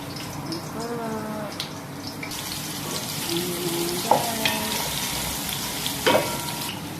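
Pakbet ingredients sautéing in a pan until browned, a steady close sizzle of frying with occasional clinks of stirring and a couple of sharper splashes, with no talk over it.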